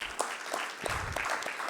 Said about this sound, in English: a round of applause for everyone in the room